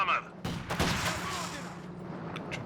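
Sniper rifle fire in a Company of Heroes 2 match cracks out as a sharp shot followed by rolling battle noise and distant bangs, with a commentator's voice running underneath.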